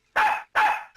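Two loud, close dog barks in quick succession, with the start of a third cut off at the end, during a comedy film scene.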